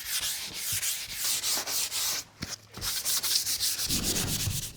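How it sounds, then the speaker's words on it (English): A kitchen cupboard door being gently sanded with fine sandpaper or a sanding pad, a steady close scratchy rubbing in back-and-forth strokes with a brief pause midway, no voices. "It's vital to give it a nice gentle sand, only with a very fine sandpaper or a sanding pad."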